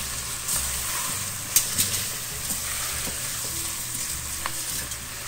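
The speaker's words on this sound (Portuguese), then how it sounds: "Vou refogando assim mais ou menos uns 2 minutinhos." Onion sautés in a pressure cooker pot, a steady close sizzle with a few soft scrapes and knocks of stirring, and no voices.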